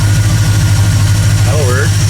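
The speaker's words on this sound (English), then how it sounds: "Turn my idle speed down here." An AMC AMX with a 304 V8 idles steadily after its idle speed is turned down on a carburetor, a constant low rumbling drone with a faint brief tonal sweep near the end.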